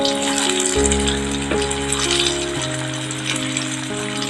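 Flour-coated potato pieces fry in hot oil with a steady, close sizzle and crackle that runs through the whole stretch, while a soft tonal hum sits underneath.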